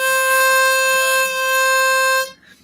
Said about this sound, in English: Single hole sounds like this.